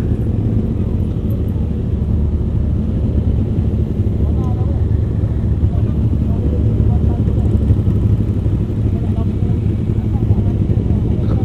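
A loud, steady low engine rumble, like a motorcycle running close by, holding a constant drone throughout.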